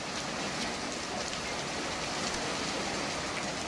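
Heavy rain and hail pounding down during a storm in southern Colorado, a dense, steady roar of hard drops hitting surfaces that stays loud and unbroken throughout, with no voices.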